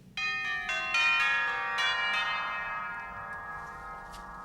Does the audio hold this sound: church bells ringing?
yes